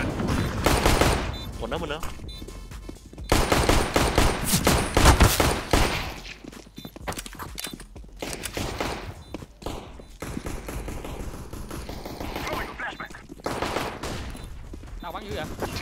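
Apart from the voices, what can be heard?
gunfire in video game Counter-Strike map de_anubis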